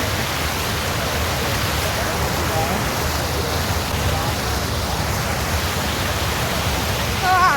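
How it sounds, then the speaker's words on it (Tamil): A waterfall near a hill temple gives a loud, steady roar of rushing water that fills the whole clip without letting up. "இந்த அருவியோட"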